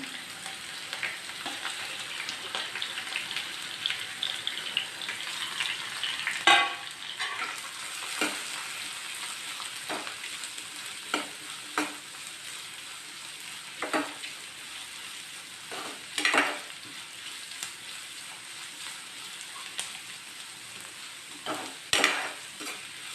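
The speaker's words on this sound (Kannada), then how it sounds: "ಈರುಳ್ಳಿ ಸ್ವಲ್ಪ ಕೆಂಪಾಗೋದು ಹುರ್ಕೊಳ್ಳೋಣ" Onion and green chillies frying in a pan, a continuous soft sizzle under repeated scraping stirs and occasional metallic spatula taps against the pan, close and steady.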